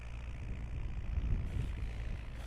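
A 40-horsepower tractor pulling 1.5-metre discs rumbles steadily at a low pitch in first gear, a constant droning hum heard at a moderate distance with no one talking.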